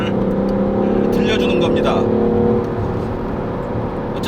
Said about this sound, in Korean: 실제 엔진 사운드가 아니라 음향 장치를 이용해서 만들어진 가공의 엔진 사운드를